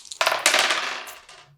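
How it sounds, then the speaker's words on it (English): Dice rolled across a tabletop for the board game Library of Jakkarth, a single close clattering tumble that rattles loudly and then dies away over about a second, with no voices. "we have to roll the dice to find out who can start the game"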